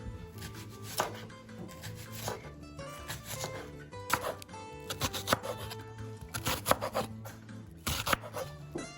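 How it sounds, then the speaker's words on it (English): A knife slices an onion into thin slices on a board, giving a quick series of close, crisp cuts in an uneven rhythm with no talk. "we're gonna cut our onion as you see the lines here"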